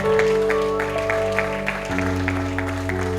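A church congregation claps in a rhythmic beat over sustained music from instruments, the claps landing as regular, fairly soft strikes beneath steady held tones.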